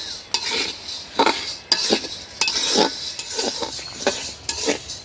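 Whole moong dal stirred as it dry-fries in a pan for khichuri, with a spatula or spoon scraping and clinking against the metal in a steady run of close strokes and no voices.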